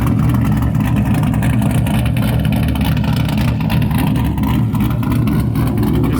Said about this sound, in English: Got the Miata warming up.